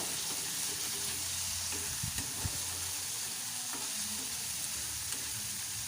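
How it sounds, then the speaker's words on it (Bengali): Small chuno fish in masala frying in a bowl for bati chorchori as a spatula stirs it, a soft continuous sizzle with a few scraping knocks of the stirring spoon, no talking. "একটু নাড়িয়ে চাড়িয়ে নেব।"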